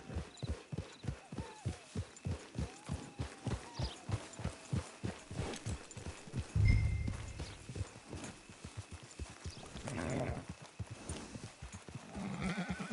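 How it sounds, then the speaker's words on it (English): Horse hooves clip-clop at a steady walking rhythm in the Red Dead Online game, close and clear, followed by a short thump, faint rustling and softer movement sounds. "It's your horse."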